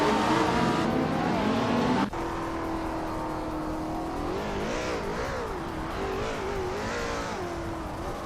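A Lamborghini Sesto Elemento and a Ferrari 458 Italia race in a video game, their engines revving loudly and shifting pitch up and down, with an abrupt gear change early and continuous close, high-pitched whine.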